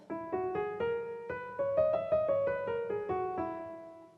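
An instrument plays a major scale with a raised fourth note, a clean run of sustained tones stepping up and back down, moderately loud and alone.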